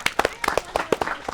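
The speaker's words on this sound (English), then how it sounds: "let's give Sarah a round of applause." Scattered audience claps at a meet and greet, a handful of sharp, uneven hand slaps over roughly a second, mixed with voices talking.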